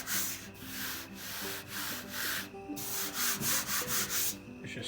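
A hand rubs over the surface rust on the hood of a 1953 Chevrolet Bel Air, producing a quiet, smooth scraping in repeated strokes of uneven length, with faint background hum beneath.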